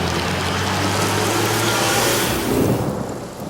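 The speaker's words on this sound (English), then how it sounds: "I did happen to just find a rain scroll. So, that creates rain in a huge area." Heavy rain conjured by a rain scroll across a huge area in the video game Divinity: Original Sin, a loud roaring downpour with a rumbling low undertone that swells then eases near the end, no voices.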